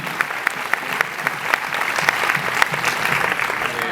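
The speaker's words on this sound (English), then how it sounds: "I just wanted to say an applause for Robert Foster" Audience applause at a film festival Q&A in Sitges for El Camino, steady clapping from a large crowd with sharp individual claps standing out, sustained throughout at moderate volume.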